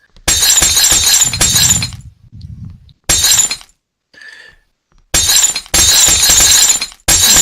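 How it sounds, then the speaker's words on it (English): Panes of glass shatter in a video game lab escape: three loud bursts of breaking glass with tinkling debris between them, no voices. "you break another pane of glass to get out of the lab"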